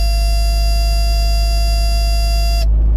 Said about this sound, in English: Listen to that buzzer.